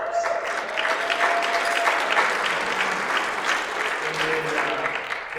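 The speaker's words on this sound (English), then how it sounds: "How about a round of applause?" Steady, moderately loud applause from a banquet audience at an award dinner, a dense wash of clapping with faint tonal sounds beneath it and no talking.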